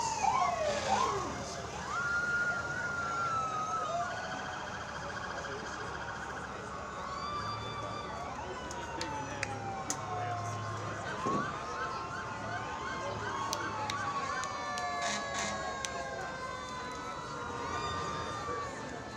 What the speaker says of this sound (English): that is followed by a medics ambulance